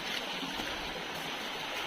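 Steady broadband rush of a small river flowing, continuous and fairly close, with no talk over it, at a crossing point on a rural walk.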